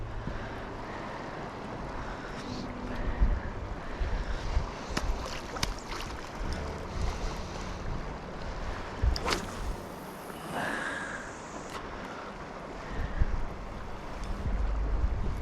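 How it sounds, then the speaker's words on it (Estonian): Waves break and foam over a shallow shoal on open water, a continuous wash of surf roughened by wind buffeting the microphone, with a few sharper splashes and a brief swelling rush partway through. "Näete, kus seal laine ilusti murrab."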